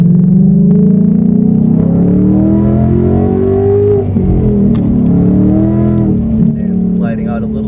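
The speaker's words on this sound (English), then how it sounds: "Quick acceleration here." A Ford Mustang GT S550 accelerates hard on a local road, its loud, close engine note climbing steadily in pitch, easing briefly, then pulling up again.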